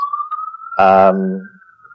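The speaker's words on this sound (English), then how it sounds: "I don't know if you heard that was an ambulance." An ambulance siren holds a steady wailing tone throughout, interrupted in the middle by a brief burst of voiced sound from someone nearby.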